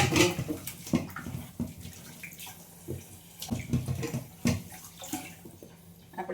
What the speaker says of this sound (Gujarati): પહેલાં તો જો હું એક સરસ મજાના સાફ પાણીથી બટેટા ધોઈ નાખું।